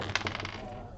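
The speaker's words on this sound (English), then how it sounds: "Sorry, my dice rolling." A brief clatter of dice rolling across a table during a Warhammer 40K tabletop game, a quick cluster of rattling hits close by that fades within a second.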